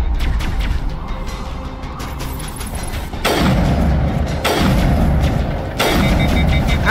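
Heavy booming weapon fire from a Mass Effect firefight: three loud, deep blasts spaced roughly a second apart, each with a long ringing tail, over a constant rumbling bed of game noise, with no voices.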